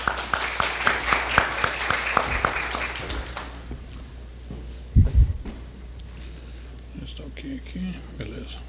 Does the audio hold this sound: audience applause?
yes